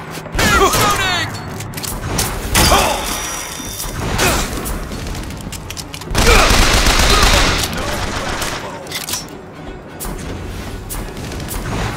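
Enemy gunfire in the first-person shooter Bioshock Infinite, rapid automatic bursts and loud gunshots with mechanical clatter, a sharp heavy volley near the six-second mark, continuing throughout with no speech.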